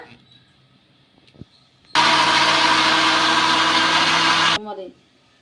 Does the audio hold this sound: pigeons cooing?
no